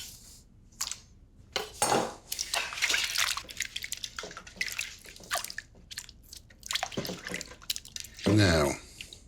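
Cut potatoes are washed in a bowl of water, with sloshing, dripping and clattering against the bowl, close up, and a loud splash near the end.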